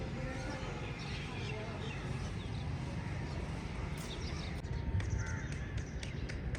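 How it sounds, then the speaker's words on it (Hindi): Crows perched on wires caw now and then over a steady outdoor background on a village morning, with a person talking at times. "कौवे बैठे हुए हैं तारों पे।"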